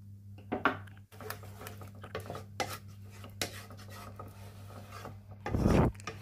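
A spoon scrapes and rubs through thickening almond halwa flavored with cardamom essence in a pan, in repeated close strokes over a steady low hum, with a louder grinding scrape near the end.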